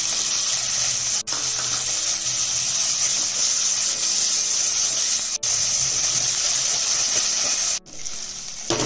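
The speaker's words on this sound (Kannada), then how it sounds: "ಇದು ಇತ್ತಿಗೆ ಅವರೆಕಾಳು ಇದೆಯಲ್ಲ, ಇದನ್ನ ಸ್ವಲ್ಪ ಹುರ್ಕೋಬೇಕು." Field beans (avarekalu) roast in a little oil in a pan, a steady bright sizzle and crackle with a few abrupt brief breaks, close and alone without talk.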